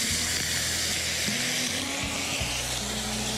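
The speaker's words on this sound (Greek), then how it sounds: "είναι η ώρα που θα σβήσω με το κρασί μου" Beef in a hot pot hisses loudly and steadily right after a cup of white wine is poured in to deglaze, a continuous close sizzle with no talking.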